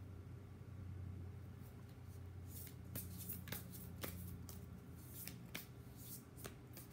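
Oracle cards being shuffled by hand, a run of soft papery riffles and flicks that come in irregular bursts at close range over a low steady hum, with no voices.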